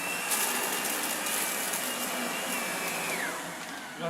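A Lindhaus HealthCare Pro HEPA upright vacuum cleaner runs steadily and loud up close, a constant whirring motor roar that dips slightly in pitch and level near the end, with no talking.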